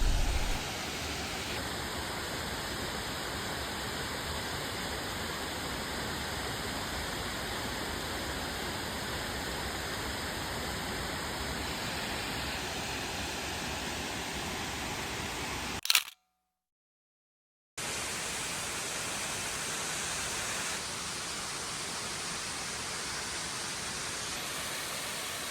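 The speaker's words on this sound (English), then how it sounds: "get our first peek at the waterfall" Brandywine Falls in Cuyahoga Valley National Park: a constant broad rush of falling water, steady and fairly loud, broken once by a short gap of silence, with a faint high electronic whine over it and no talking.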